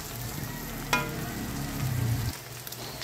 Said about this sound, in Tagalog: Iprito natin siya hanggang sa ma-toast siya.